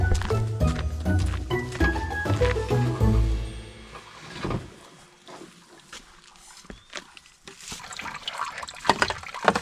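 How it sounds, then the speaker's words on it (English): A pump drives water through a hose into a spring box, with gurgling, splashing and dripping close up, then sputtering bursts of flow that come and go, with no talking. "and then we're gonna blow water into the box."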